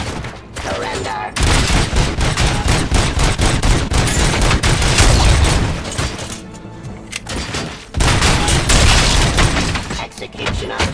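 Sustained bursts of weapon gunfire in the RoboCop Rogue City video game, loud and dense with booming impacts, stopping for short pauses before resuming, with game voices mixed in.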